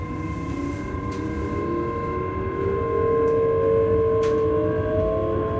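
A train bound for Edinburgh Waverley running steadily, with a continuous rumble and a sustained mechanical whine that rises slightly in pitch as it travels.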